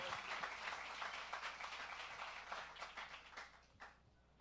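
Faint, dense clapping from a masterclass audience runs steadily for a few seconds and thins out toward the end.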